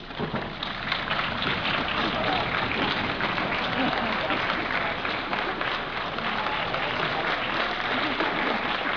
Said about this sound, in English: please stand for our round of applause for your help.